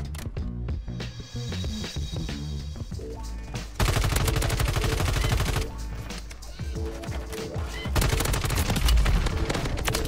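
Ram 7 assault rifle firing in the video game Warzone 3, loud rapid bursts of automatic gunfire that grow denser and more continuous in the later part, layered over game sounds and music.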